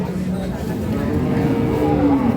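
A dairy cow lets out one drawn-out moo at a village cattle market, the Ambari haat, rising and then falling over a low, busy crowd murmur.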